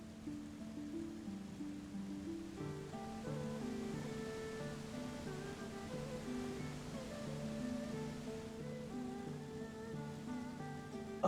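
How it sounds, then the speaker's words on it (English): Flooding water in Final Fantasy XIV's Stormblood story, a steady low rushing wash of water with a faint tonal game melody rising and falling over it, quiet and continuous throughout. "Oh, like you can actively hear the flooding."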